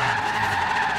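An old truck sliding off the road in Forza Horizon 3, a steady loud tire skid with a sustained squealing tone and engine underneath, lasting about a second.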